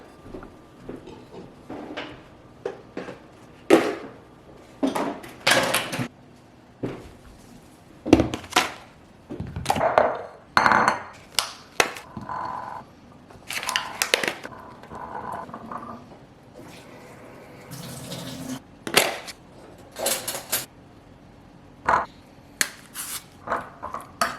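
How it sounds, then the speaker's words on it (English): Clean dishes are being put away in a home kitchen: irregular sharp knocks, clinks and thuds as plates and cabinet or drawer doors are handled, close by and spread over about twenty seconds with short pauses between them. No one speaks. "I'm gonna put away these dishes. They're all clean, should be dry."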